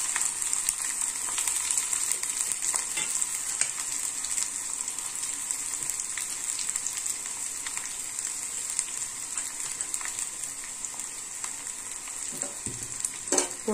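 Chopped onion, curry leaves and green chilli fry in a pan with a continuous hissing sizzle, steady and fairly close throughout, with occasional stirring clinks.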